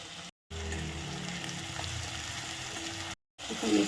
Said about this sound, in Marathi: इथं जिरे मोरेची कडक फोडणी देऊन घ्यायची आहे